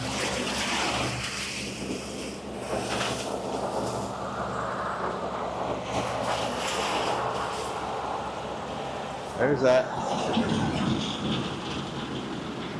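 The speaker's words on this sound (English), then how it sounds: "That tractor's kind of loud." A steady, loud tractor engine rumble runs throughout, close by, with a brief clunk near the end and a few words spoken over it.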